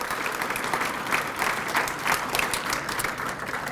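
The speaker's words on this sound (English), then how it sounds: "round of applause for these folks" An audience claps at a university athletics hall of fame ceremony, a full, steady wash of applause from a large crowd that stays loud and even for the whole stretch.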